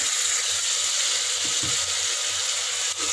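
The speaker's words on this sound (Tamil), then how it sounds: "தக்காளி லைட்டாக வதங்கட்டும்." Chopped medium tomatoes sautéing in a pan for prawn biryani give a steady soft sizzle with a faint spoon scrape or two, close and continuous, no talk.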